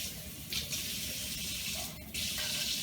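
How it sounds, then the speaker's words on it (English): Water runs into an empty tomato can to rinse it in a kitchen, a soft continuous trickle with a couple of brief brighter splashes as the flow shifts, fairly quiet and close. "Clean your can out, add a little bit of water."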